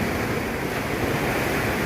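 Ocean surf rolls onto Phayun beach in Rayong in the early morning, a continuous broad wash of waves mixed with wind buffeting the microphone.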